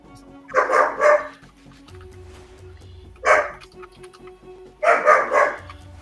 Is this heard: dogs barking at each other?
yes